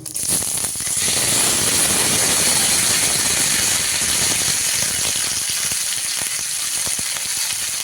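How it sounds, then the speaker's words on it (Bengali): Potato, eggplant and beans fry in hot oil with a loud, continuous sizzle and crackle, close and steady throughout with no talking. "এই আলু, শিম, বেগুনটা ভেজে নেবো।"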